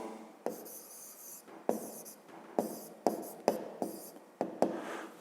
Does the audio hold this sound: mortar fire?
no